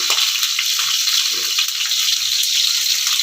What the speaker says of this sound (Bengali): এখন এটা আমি তেলের মধ্যে ভেজে নেব।